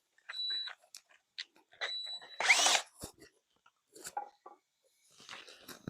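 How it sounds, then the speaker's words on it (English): A small, cheap cordless drill on low batteries, used while welding up a custom flag pole and its mounting brackets, bores in one loud burst of about half a second amid other short shop noises and tones. "These little cheap drills and little batteries"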